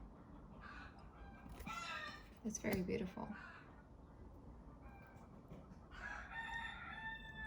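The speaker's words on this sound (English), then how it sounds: "I feel like these chickens bickering in the background." Several chickens cluck and squabble in the background, with a rooster crowing partway through, while a person speaks softly in the foreground.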